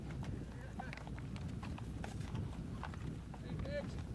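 Horse hooves clip-clopping along a Wyoming elk pack trip trail, a steady uneven walking rhythm close by, with people talking over the hoofbeats and other riders' horses nearby.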